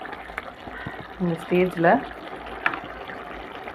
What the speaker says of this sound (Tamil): கத்திரிக்காய் நல்லா புளியோடு சேர்ந்து நல்லா கொதிக்குது.